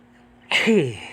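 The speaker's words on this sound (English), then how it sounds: "it's bleach and it's making me sneeze" A single sharp human sneeze set off by bleach fumes from laundry, a short loud burst close to the mic after quiet.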